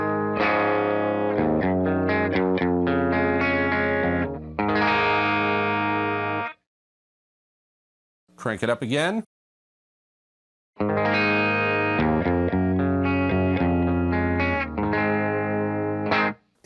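An electric guitar played through a Vox AC15 amp on its normal channel rings out in bright picked phrases. A voice speaks briefly during a pause, then the guitar resumes.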